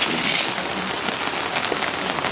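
Heavy rain pours steadily at an outdoor lion enclosure, a dense, continuous hiss of drops hitting surfaces, close and fairly loud with no other sounds.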